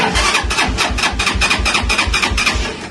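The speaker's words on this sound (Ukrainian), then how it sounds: "Все, не заводиться, бо бензина немає." A Chinese sport motorcycle's starter cranks its engine again and again in a loud, close, rhythmic churn, and the engine never catches because the tank is out of fuel.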